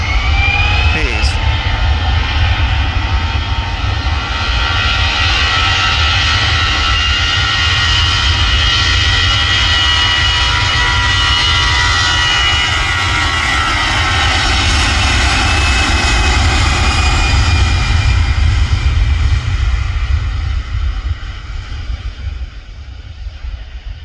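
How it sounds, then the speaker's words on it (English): An EasyJet jet airliner takes off from a runway viewed from a nearby viewing park, a loud sustained engine roar that slowly shifts in pitch as it climbs away, fading somewhat at the end. "Nose gear up, main gear's away, EasyJet's away."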